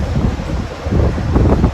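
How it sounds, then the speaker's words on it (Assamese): Cold wind gusting outdoors in Jammu buffets the microphone with a continuous low rumble that swells and eases across a couple of seconds, with no voices. "এতিয়া বতৰটো খুব ঠাণ্ডা কৰি দিছে বতাহ মাৰিছে"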